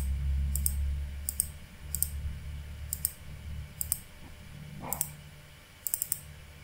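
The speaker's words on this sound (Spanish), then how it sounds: "Entonces vamos seleccionando, dando clic." Computer mouse clicks while selecting objects in Vectorworks 2020, about a dozen sharp close clicks in loose pairs and singles spread over several seconds, over a low steady background hum with no talk.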